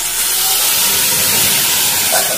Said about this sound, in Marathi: यामध्ये आता आपल्याला मॅश केलेली चुक्याची भाजी टाकून घ्यायची आहे।